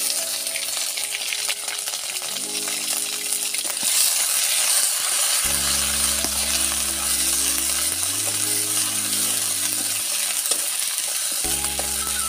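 Crushed ginger and green chili fry in hot oil, a continuous bright sizzle with occasional stirring scrapes, close and steady throughout, while low tonal hums come and go underneath.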